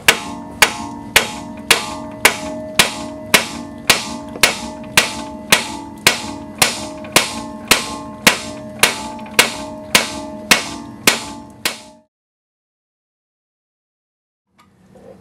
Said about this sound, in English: big hammer, flat part right here, swing away and it'll break it loose